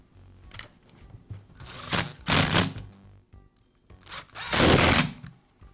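Plastic housing being refitted onto a Makita reciprocating saw during power cord repair, heard as several bursts of clicking, scraping and rattling handling noises, close and fairly loud, separated by short quiet gaps.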